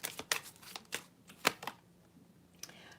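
Moonology oracle card deck being shuffled by hand, a quick run of soft papery riffles and taps in an irregular rhythm, close and quiet with no talking.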